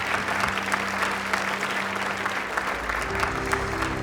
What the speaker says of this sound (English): Give them a hand clap for Ed and Sam Christensen as you come up